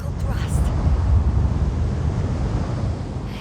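A spaceship engine in The Invincible roars with vertical thrust, a steady low rumbling wash of noise that holds throughout, with someone speaking over it.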